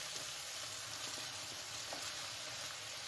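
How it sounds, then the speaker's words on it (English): Meat with mushrooms frying in a pan, a steady, dense sizzle with faint stirring scrapes, close and continuous throughout. "Now we're gonna add our mushrooms"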